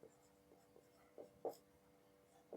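Chalk or marker strokes on a board in a physics lecture on Newton's second law, a few short scraping taps spaced irregularly, faint and close, with no talk.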